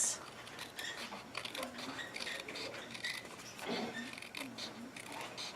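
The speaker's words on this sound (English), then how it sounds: "I'm just going to cut around" Scissors cut around paper for a beginners' mini album craft, producing a steady run of close, soft snipping and rasping strokes with slight rustling between cuts.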